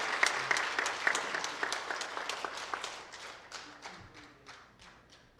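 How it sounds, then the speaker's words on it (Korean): Church congregation giving a big round of applause for high school students at a revival meeting, dense clapping that gradually thins into scattered separate claps and fades out. "우리 큰 박수 부탁드리겠습니다"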